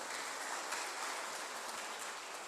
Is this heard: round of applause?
yes